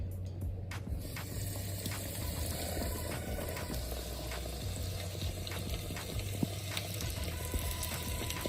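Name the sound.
chicken frying in hot oil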